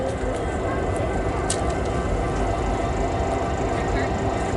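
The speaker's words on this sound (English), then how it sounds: "we have Amtrak number 8 approaching" Amtrak passenger train number 8 approaching on the line, a broad, continuous rumble with steady track noise, loud and sustained through the whole stretch.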